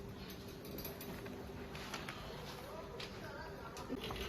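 Industrial sewing machines stitch segments of an inflatable theme park in a busy sewing workshop, giving a steady mechanical whirring and clatter throughout with faint background voices mixed in.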